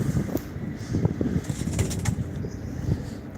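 Pigeons coo in soft, repeated low burbles close by at a live pigeon auction, overlapping each other in a steady murmur with a few faint higher rustles.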